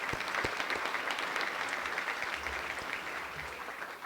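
Audience applause fills a spring general assembly hall as people clap for standing legislative liaisons: dense, steady clapping, fairly loud, that holds for the whole stretch and eases slightly toward the end.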